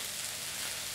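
500 g of chopped onions frying in olive oil in a pan for pissaladière, a steady, soft, even hiss of sizzling with no talk.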